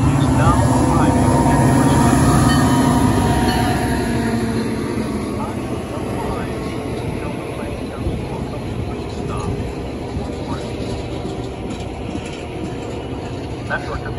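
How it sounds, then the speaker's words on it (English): A Metra commuter train rumbles into Berwyn station, loud at first then easing to a steady lower roll, with faint squeals and clanks toward the end. "The next outbound Metra train from Chicago is now arriving."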